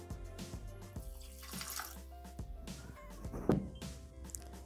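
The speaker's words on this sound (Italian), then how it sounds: "Aggiungiamo l'acqua." Water poured into a Thermomix bowl while cooking tuna pasta, a short splashing pour with light clinks and knocks close by, no speech.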